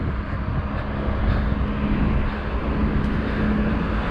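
Johannesburg street traffic moving toward someone walking, a steady close roar of cars and engines with no distinct passes and no voices.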